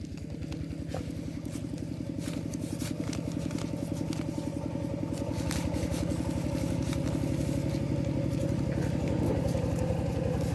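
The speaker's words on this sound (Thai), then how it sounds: "จะมีเสียงรถไถเฮาเนาะ" A tractor's diesel engine chugs continuously at close range with a steady rumble and a rapid rhythmic knock, occasional clatter and faint voices in the background.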